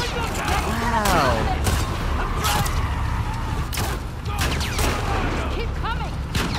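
Gunfire in The Last of Us Part II gameplay, a string of sharp close shots mixed with mechanical clatter and action noise, with a voice speaking at times over the fight.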